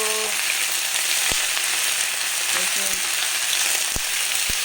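Malabar spinach (pui shak) frying in a pan, a dense even sizzle throughout with a few faint clicks of a spatula.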